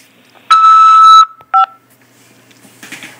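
Automated prison phone system beep on a collect call from a corrections facility: a loud, steady electronic tone lasting under a second, then a short double beep, followed by faint line hiss.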